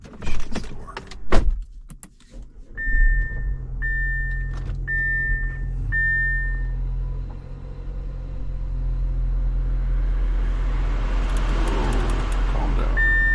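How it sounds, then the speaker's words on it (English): An Audi's engine cranks and starts, settling into a steady low idle hum; a few evenly spaced electronic chimes sound early on, and a louder rushing rises toward the end. "So now let's start the car, see what happens."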